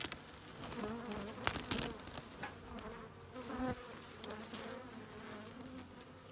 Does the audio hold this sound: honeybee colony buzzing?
yes